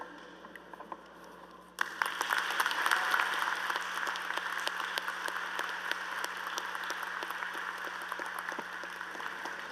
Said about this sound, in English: Please join me in giving one more round of applause to our keynote speaker